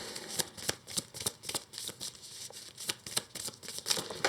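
A deck of cards is shuffled by hand at close range, a rapid run of crisp riffling flicks and soft taps repeating steadily without pause.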